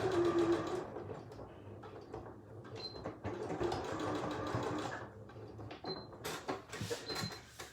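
Sewing machine stitching pieces of a bag together in short bursts, a close mechanical whirr with clicks and pauses between runs, moderately quiet.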